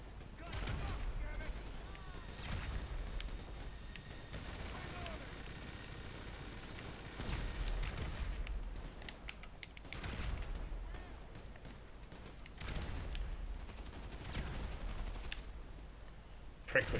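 Gunfire and explosions in GTA 5 come as repeated bursts of shots and booms through the whole stretch, while voices talk throughout.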